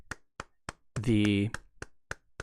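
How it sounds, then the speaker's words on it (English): Hands clap a triplet rhythm: a string of sharp, evenly spaced claps on either side of a brief sung or spoken syllable in the middle, close and clear in a quiet room. "So if I was going to clap that"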